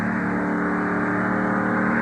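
A race car engine at the 2004 Rolex 24 endurance race drones loud and steady, a constant buzzing hum heard from close by with no talk.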